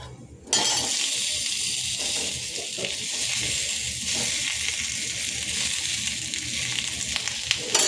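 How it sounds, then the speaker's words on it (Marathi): Onion fries in a pan, a loud, continuous sizzle that breaks in suddenly, with faint clinks and stirring under it and no talk. "तर आता आपण कांदासुद्धा भाजून घेऊया।"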